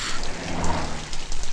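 Steady, close rain hisses and patters over a broad band with a few brighter drop hits on top, with no voices.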